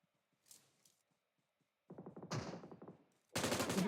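Gunfire in the PUBG Mobile battle royale game, scattered faint shots followed by a rapid automatic burst and a loud sustained volley of blasts up close.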